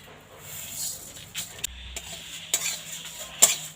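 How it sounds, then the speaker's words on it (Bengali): Dry stirring and scraping of spices roasting in a pan with a faint sizzle, punctuated by a few sharp utensil clicks against metal; no one speaks. "মশলাটা ভেজে নিয়েছি"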